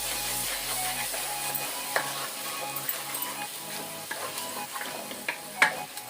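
Ash gourd halwa with roasted cashews stirred in a kadai, a continuous close scraping and stirring over a gentle sizzle, with a few louder knocks of the spoon, no voices.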